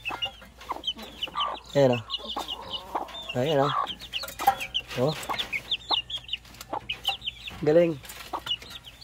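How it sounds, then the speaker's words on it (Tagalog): A mother hen and her young chicks cluck and peep close by in a backyard setting, with soft repeated clucks and high chirps, while people talk briefly over the birds. "Puro mga happy chicks. Mga happy mga sisiw."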